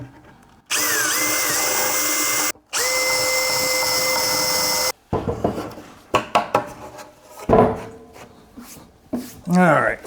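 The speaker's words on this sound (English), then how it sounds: "and now I'm going to drill the holes." A power drill bores holes in wood for a mid-century modern floating console table, two long loud steady whines with a short pause between, followed by scraping and handling sounds and someone speaking.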